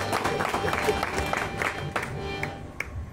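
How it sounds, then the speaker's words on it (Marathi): An audience claps for the singer Lokre Buva at a devotional singing performance, giving uneven, fairly close applause that thins toward the end. "एकदा लोकरे बुवांसाठी जोरदार टाळ्या वाजवा."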